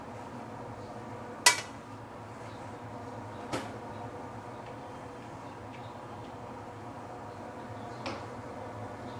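Fried beehoon is plated onto a serving plate in a kitchen, with a sharp clink of cookware, a softer knock a couple of seconds later and another faint tap near the end over quiet background hum.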